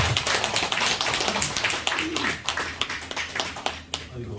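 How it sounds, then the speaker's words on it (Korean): A crowd claps in a dense burst of applause that gradually thins out into scattered claps. "큰 박수 함께 주시기 감사합니다."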